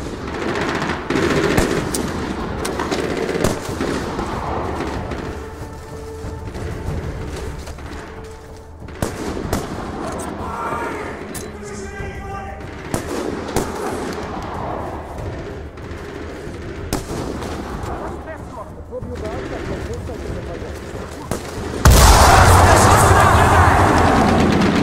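Sustained gunfire in a Medal of Honor: Warfighter mission, dense bursts of automatic fire and scattered shots rattling throughout, with a loud booming burst near the end and voices breaking in now and then.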